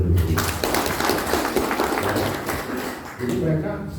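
Audience applause at an Indonesian business training event fills the room steadily for several seconds, with a speaking voice and crowd noise running over the clapping.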